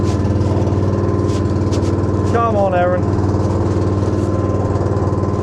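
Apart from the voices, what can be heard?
boat engine running on a beach fishing boat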